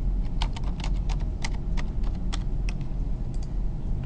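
Typing ASDF on a computer keyboard: a series of sharp, irregular key clicks over about four seconds, close and distinct, set against a constant low hum.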